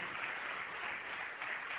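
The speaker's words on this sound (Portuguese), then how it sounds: "vamos aplaudir o Senhor Jesus por cada pessoa que está chegando" A church congregation claps together in a steady, dense wash of applause that holds evenly for the whole stretch, with no voices rising above it.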